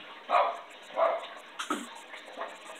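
Small dog yapping and barking in a series of sharp bursts, fairly close and loud, with brief pauses between barks.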